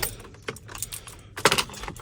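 Keys jangling as they are grabbed before heading out to a tree-work job: bursts of bright metallic clinking, close by, with a louder cluster near the end.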